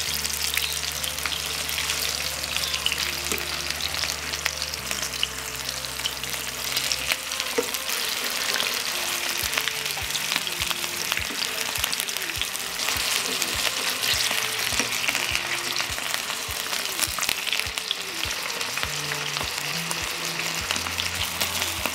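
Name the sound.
pljeskavica patties frying in a pan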